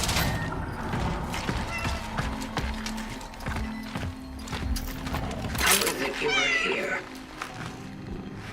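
Several cats meowing in the Cronos: The New Dawn game, with short mews scattered over a busy ambient and mechanical bed, plus a louder cluster of cries near the end.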